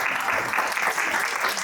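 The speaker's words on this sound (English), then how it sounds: "So will you all give them a round of applause as they join us?" An audience applauds to welcome guests joining a panel on mental health and work boundaries, a dense, steady burst of clapping filling the room.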